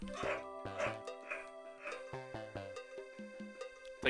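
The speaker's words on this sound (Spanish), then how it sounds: "Espera, ¿ladro?" A character in the video game Pikuniku barks like a dog, a run of short, yappy bow-wows and yips over bouncy game music.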